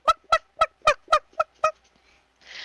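A storyteller's voice imitates a chicken clucking, giving seven quick, evenly spaced clucks up close, then a short burst of soft noise.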